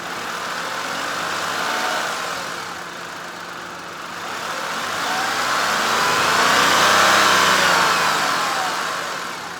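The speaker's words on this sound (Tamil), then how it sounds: "இப்போ நான் ரேவ் பண்ணி காமிக்கிறேன்." Tata Altroz 2024 CNG car engine, heard from near the car, idling and then revving twice in slow, smooth swells, with the pitch rising and falling each time.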